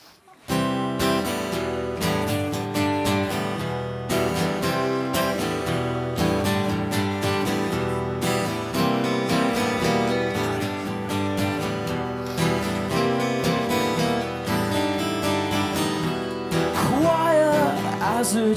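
An acoustic version of a song, with dense, steady guitar and instruments ringing continuously and loudly for the full stretch, close and full, without speech.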